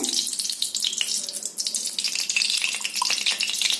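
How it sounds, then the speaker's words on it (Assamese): Ghee hitting hot oil in a pressure cooker while making paneer pulao: a close crackling sizzle with bursts of spitting, fairly steady throughout. "এইখিনি তেলতে মই 2 চামুচ ঘি দি দিম।"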